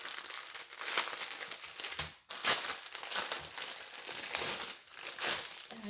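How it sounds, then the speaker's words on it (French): Paper crinkling and crumpling close up during a diamond painting craft session as small scraps are handled and dropped into a bin, a continuous soft rustle with brief pauses. "il y aura des bruits de papier évidemment dans cette vidéo."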